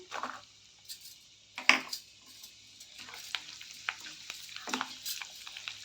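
Ginger garlic paste, curry leaves, garlic and dried red chillies frying in oil for a mutton pickle, a quiet hiss with a sudden sputtering burst as ingredients go in, then scattered spoon clinks and stirring.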